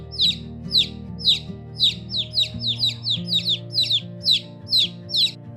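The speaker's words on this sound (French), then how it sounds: "Les oiseaux vinrent et la mangèrent." Birds chirp over and over as a sound effect in a narrated parable of the sower, the calls coming in a steady run of bright repeated bursts over a low, quiet background drone.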